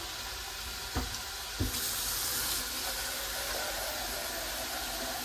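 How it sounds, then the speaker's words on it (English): Water runs steadily from a kitchen tap into a cup, a continuous hiss near the microphone, with two brief knocks early on. "Then you get a cup of water."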